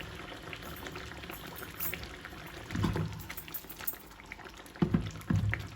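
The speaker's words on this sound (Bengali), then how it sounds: "সেই তেঁতুলের মাঠটা আমি এখন দিয়ে দিব আর দিয়ে দিব তিনটা আস্ত কাঁচামরিচ" Tamarind pulp poured into a simmering pan of pickle-style aubergine curry with whole green chillies, giving soft liquid pours and bubbling with a few louder splashes near the end, no talking.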